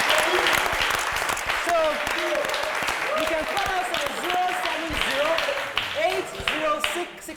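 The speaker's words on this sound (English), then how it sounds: "Please, clap for him." A studio audience applauds a guest on a Nigerian television talk show, steady clapping running throughout while a voice talks over the applause.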